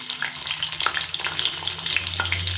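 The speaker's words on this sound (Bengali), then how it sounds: "দিয়ে এইগুলো 1 থেকে 2 মিনিট একটু ভেজে নেব।" Dried red chillies and garlic cloves frying in mustard oil over a low gas flame, a close, continuous crackling sizzle with small spitting pops and no voices.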